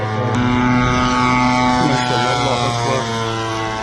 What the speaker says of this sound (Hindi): एक ड्रोन दागा है अफगानिस्तान ने।